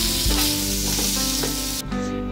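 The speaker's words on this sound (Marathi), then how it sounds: "हे आपल्याला मोठ्या गॅसवरती परतून घ्यायचं" Onion and capsicum stir-fry in a kadhai over a high gas flame, a loud, steady sizzle with stirring scrapes that runs unbroken and drops off briefly near the end.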